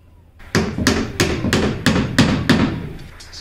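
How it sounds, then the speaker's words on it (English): A hammer drives nails into wall studs while a doorbell camera wire is being secured, seven sharp evenly spaced strikes ringing out close and loud with no talking. "So I'm just hitting a couple nails in the studs just to help hold this wire up"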